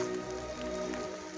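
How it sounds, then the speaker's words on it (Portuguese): Heavy rain falls steadily at a spiritual retreat site, a continuous close patter and hiss with no voices. "Pegamos uma chuva forte."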